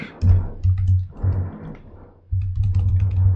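Someone types a line of code on a computer keyboard, with quick bursts of close key clicks, a short pause, then another run of typing.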